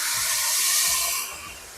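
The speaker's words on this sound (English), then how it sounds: "Back from our brief overboil because I wasn't paying attention." A pot of herbal coffee boiling over on a stove gives a brief loud hiss and sizzle of liquid spilling onto the hot surface, fading slightly at the end.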